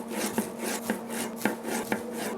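Knife slicing through smoked barbecue sausage links on a board, a few distinct cutting strokes spaced about half a second apart, close and moderately loud over steady background noise.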